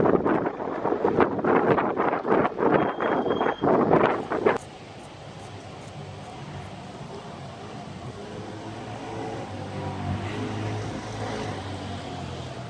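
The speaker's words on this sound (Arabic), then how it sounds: "كنطل من هنا كيبان شويه البحر هايش" Rough sea at a beach: a close, loud rush of wind buffeting the microphone for several seconds, then a steadier, fainter roar of waves and wind that continues to the end.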